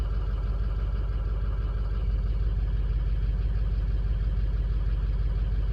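A car engine idles after a cold start, with the number 2 cylinder running a little low, a close, steady low throb with an even pulsing rhythm and no voices.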